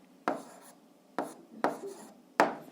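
Writing by hand on paper, four short scratchy pen strokes at irregular intervals, close and quiet against a near-silent background, with no one talking.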